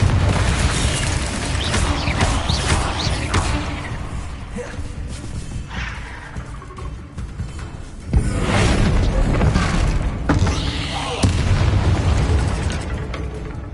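Repeated Confringo fire-spell blasts in Hogwarts Legacy, booming explosions and crashing bursts in a dense, continuous barrage with loud surges around the middle and later, heard up close without talk.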